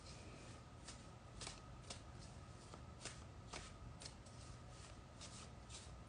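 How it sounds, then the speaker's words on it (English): A deck of tarot cards shuffled calmly and steadily, with soft, regular riffling flicks repeating throughout, quiet and close, with no one talking. "And you notice I shuffle nice and calmly."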